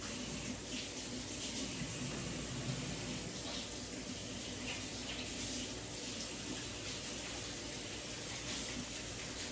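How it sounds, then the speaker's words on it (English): Steady water from a kitchen tap runs over hands being washed after mixing meatloaf, a continuous close hiss and splash with no talking. "I am gonna wash my hands."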